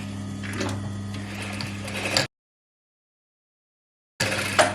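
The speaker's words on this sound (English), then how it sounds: "I'm just going to stitch down the center back" A sewing machine stitches the centre back seam of a Pipit vest with a 1 cm seam allowance, running steadily and close for about two seconds, stopping into silence, then starting again briefly.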